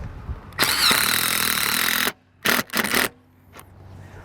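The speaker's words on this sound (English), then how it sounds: "So we'll go ahead and start putting in our screws now." A power drill driving screws into a Solera replacement awning roller on a 2007 Four Winds RV, heard as one long whirring run of about a second and a half followed by two short bursts, close and loud with no talk.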